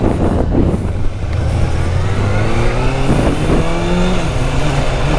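A 2019 Kawasaki ZX-6R engine runs steadily on a test ride, its tone rising and falling with throttle changes over constant loud wind rush.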